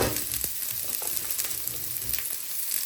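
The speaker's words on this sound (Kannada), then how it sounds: "ಇಷ್ಟನ್ನು ಫ್ರೈ ಮಾಡ್ಕೊಳ್ಳೋಣ." Onion, green chilli, garlic, ginger and whole spices like cinnamon, cloves and peppercorns frying in hot oil, a steady close sizzle with faint stirring scrapes throughout, no voices.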